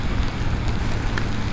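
Steady rain hisses and patters on the surface during a motorcycle ride, a dense continuous wash with no break and no talking.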